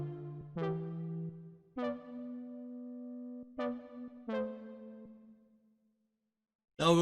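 Synth patch Breaking, a deep house sound, plays a few bright plucked notes that hold and fade over a low sustained tone. A short burst of another sound cuts in at the very end.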